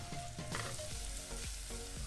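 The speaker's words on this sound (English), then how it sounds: "can you hear the sizzling sound?" Onions sizzle and crackle in a hot pan, a constant frying hiss with occasional stirring scrapes, close up.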